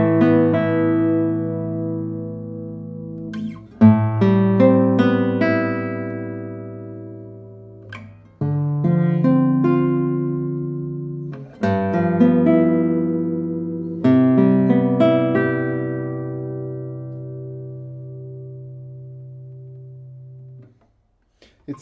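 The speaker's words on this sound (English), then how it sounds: "It's a very powerful and loud guitar with a great response." A 2022 classical guitar with a spruce top and cocobolo back and sides is played solo, with ringing plucked notes and strummed chords in phrases several seconds long, loud and close, with no talking.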